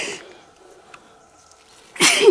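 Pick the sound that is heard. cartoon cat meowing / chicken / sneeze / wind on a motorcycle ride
sneeze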